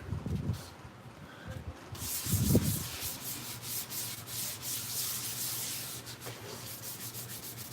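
Close, steady rubbing of sandpaper smooths a seam line on a toy, a continuous scratchy friction sound with no talk, starting softly and growing fuller after the first couple of seconds.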